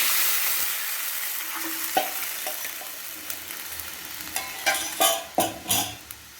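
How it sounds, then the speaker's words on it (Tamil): Buttermilk poured into a hot pan of sautéed tomatoes, followed by a spoon scraping and stirring with a few sharp clinks, the sizzle fading and rising. "தக்காளி எல்லாம் வதங்கிட்டு இப்போ நம்ம மோரை ஊற்றிக்கிறோம்."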